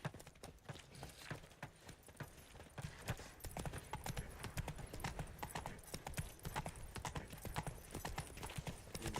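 Roach the horse gallops in The Witcher 3, a steady rapid clip-clop of hooves running without a break under a dense game soundscape, loud and close throughout.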